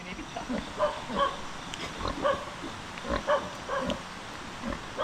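Pigs on a farm where a boar and sows are kept for sale, with repeated grunts and snorts scattered through the clip at close range, while people talk in the background.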